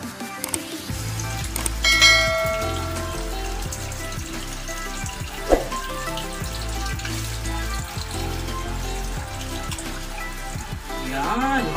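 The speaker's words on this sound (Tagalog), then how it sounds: "Lagyan na natin ng tubig." Water is poured into a pot of pork for a stew, a steady splashing that runs through most of the stretch at moderate level, with kitchen clatter and occasional clinks.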